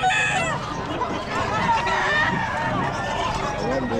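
Chickens cluck and a rooster crows at the Bocaue pet market, moderately loud amid a constant babble of nearby crowd talk.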